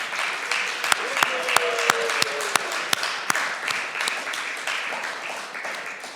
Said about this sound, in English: can we have one final round of applause for our Jonesies 2023 Lifetime Achievement in Government Waste winner, Mr. Donovan Clark